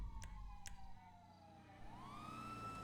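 A police car siren wails in GTA V roleplay, a single sweeping tone falling then rising again, faint and distant under low background rumble, with a couple of brief clicks early on.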